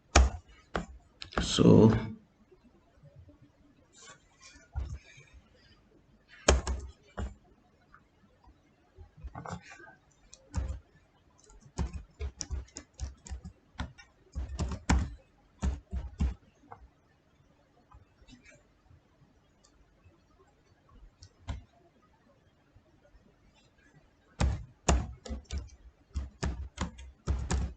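A new password is typed on a computer keyboard for a job-candidate website, giving scattered bursts of light key clicks separated by pauses over nearly half a minute, with a brief spoken word at one point.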